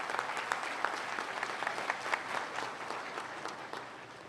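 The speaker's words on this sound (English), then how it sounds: "Let's give him a round of applause" Steady applause from a graduation ceremony audience thanking the evening's musician, a dense continuous patter of many hands at moderate level, holding evenly for a few seconds and easing slightly at the end.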